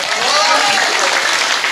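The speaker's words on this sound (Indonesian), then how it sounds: "Tepuk tangan." Dense audience applause rises in a steady wash at a comedic religious talk, loud and close, with voices mixed into the crowd noise.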